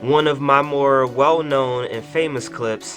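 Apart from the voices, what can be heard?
No everyday noise stands out behind the speech.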